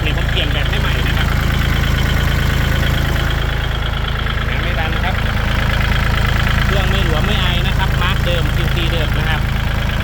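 A used 2020 Kubota L4018DT diesel tractor running steadily, a loud, constant close-up engine drone and idle throughout, with someone talking over it.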